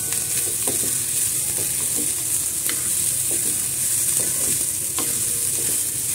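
Finely chopped small capsicum sautéing in a pan for chana kabab, a steady close sizzle with intermittent scraping strokes of a spatula stirring the pieces, no speech.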